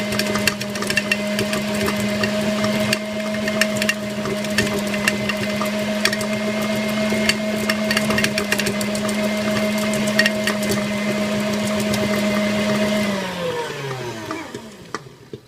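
An electric mixer whipping cream into butter hums with a steady motor whine and a constant wet slapping churn, close and sustained, then winds down as it is switched off at the end.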